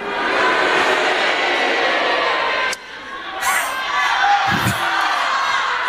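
A live crosstalk show audience reacting with a burst of mixed shouts, heckles and cheers that drops off abruptly and then returns as scattered calls and whoops.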